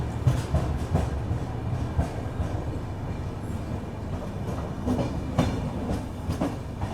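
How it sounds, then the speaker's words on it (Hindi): Rajdhani Express pulling out of Balharshah Junction station in India, heard as a steady rolling rumble with rhythmic clickety-clack wheel beats over rail joints, close and continuous. "और ट्रेन अपनी निकल चुकी है बलहारशाह जंक्शन रेलवे स्टेशन से।"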